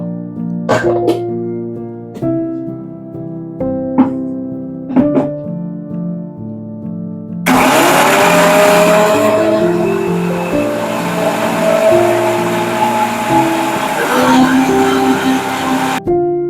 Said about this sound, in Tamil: முதல்ல கொத்தமல்லி புதினாவை அரைச்சி நல்லா பேஸ்ட் வர்ற மாதிரி அரைச்சிக்கலாம்.